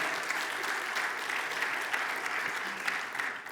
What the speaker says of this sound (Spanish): Dale el aplauso de alabanza a nuestro Señor.